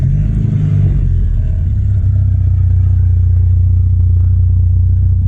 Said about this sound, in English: it's just a bit more tinny, a bit more raspy when you accelerate.